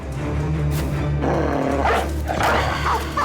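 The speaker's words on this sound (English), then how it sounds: "And we also have a dog." A dog barks during a turn-based medieval mercenary battle in Battle Brothers, a few yips heard over a steady game soundscape with low ambient drones.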